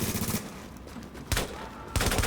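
Lone Star machine gun firing in The Division, a shooter video game, in loud rapid automatic bursts, with a long burst followed by two shorter sharp volleys close up.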